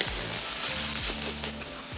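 Glass noodles with minced pork are tossed and stirred in a hot pan for Thai pad woon sen, giving a soft sizzle broken by several scraping strokes of a utensil.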